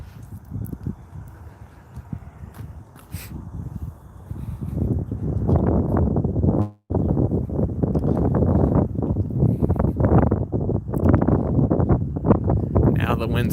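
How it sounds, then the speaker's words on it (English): Outdoor wind blowing across the microphone in Cheyenne, Wyoming, a steady low rumble that swells stronger after a few seconds and keeps buffeting, with someone talking over it. "The wind's starting to pick up."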